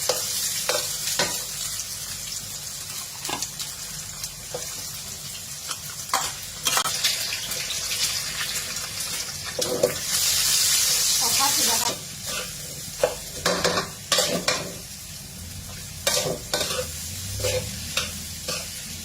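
Food stir-fried in a pan, a continuous sizzle broken by repeated scraping strokes of a spatula, with a louder hissing burst midway as something hits the hot surface; faint voice in the background.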